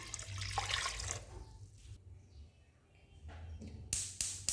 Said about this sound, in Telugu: ఒక గ్లాస్ వాటర్ అయితే పోసుకుంటున్నాను.